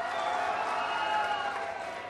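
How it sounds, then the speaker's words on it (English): A crowd at an engineering college day ceremony claps in sustained, dense applause, steady and loud for the whole stretch with no voices rising above it. "Special applause"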